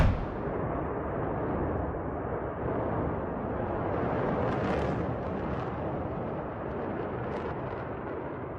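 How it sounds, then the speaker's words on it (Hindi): A gas facility in Russia explodes, giving a sustained, loud, rumbling roar with crackling bursts that continues throughout, broad and heavy with no distinct separate blasts and no voices. "उधर रशिया के अंदर गैस फैसिलिटी पर धमाका हुआ है"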